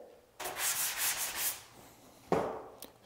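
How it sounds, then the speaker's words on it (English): Two bouts of rough, scratchy block sanding on a popcorn ceiling close by, a long stroke-by-stroke rub followed after a pause by a shorter burst. "So let's get sanding."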